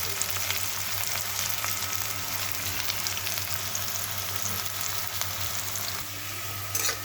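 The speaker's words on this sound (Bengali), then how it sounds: "পেঁয়াজটা লাল হয়ে ভাজা হয়ে যাচ্ছে" Onions frying in a pan, browning for a simple lunch dal, give a steady close sizzle with occasional spoon stirs and a low kitchen hum underneath.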